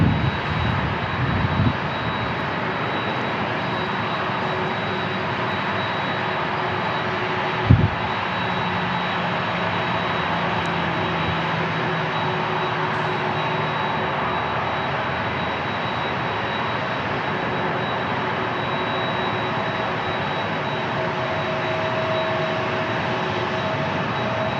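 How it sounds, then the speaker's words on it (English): Delta Boeing 737 jet moving on the ground at San Diego International Airport, a steady broadband engine rumble and whine holding level throughout, with a faint thump early on and no talk. "All right, we got another Delta 737 moving."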